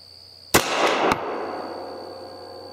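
A Beretta 84 Cheetah pistol fires an Underwood 102-grain jacketed hollow point round outdoors at a cabin, giving one loud, sharp crack followed by a brief echoing tail and a faint click.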